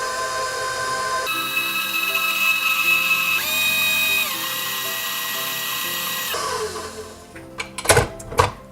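An electric kitchen mixer whirs through pumpkin pie ingredients, a steady high motor whine that shifts pitch partway through, then slows and stops, followed by a few sharp clinks against the bowl.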